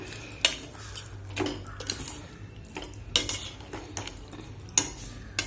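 A spoon scrapes and stirs ivy gourd thokku in a pan, giving repeated separate bursts of scraping and clinking about a second apart. A faint sizzle sits underneath, close and moderately loud, with no voices.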